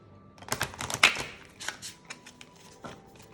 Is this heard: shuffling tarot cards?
yes